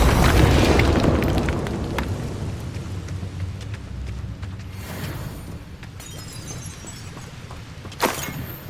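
A Confringo spell explosion in Hogwarts Legacy: a loud, rumbling blast that slowly fades into a crackling debris-like wash, with a second sharp hit near the end.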